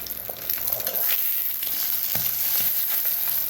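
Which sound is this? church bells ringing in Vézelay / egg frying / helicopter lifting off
egg frying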